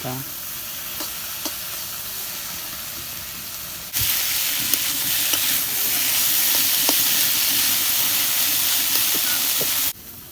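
Okra frying in a pan, first okra of the year, with a steady close sizzle and hiss that grows louder and denser midway as the pieces are stirred, occasional sharp crackles and scraping over the frying.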